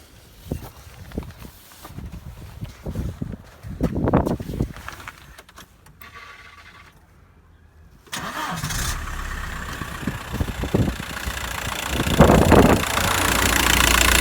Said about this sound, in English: So I'll just start the engine.